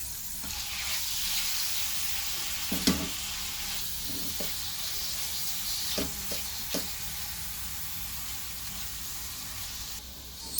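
Minced beef or mutton keema frying in a pan, a low steady sizzle broken by several scraping stirs of a spoon, fairly quiet and without talk.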